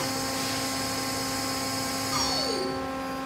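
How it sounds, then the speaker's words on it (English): A Mazak QT20 lathe spindle running with a steady high mechanical whine and hum, then the pitch sweeps downward as the spindle slows near the end, close and continuous with no talk. "we can turn the spindle on and off."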